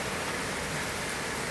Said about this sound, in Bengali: রিসোর্টের চারদিকে বৃষ্টির শব্দ হচ্ছে